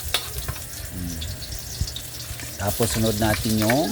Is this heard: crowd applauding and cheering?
no